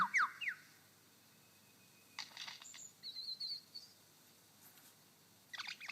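A lyrebird in a Victorian forest mimics a young magpie's call in a few short, faint chirps and squeaky notes, separated by quiet gaps.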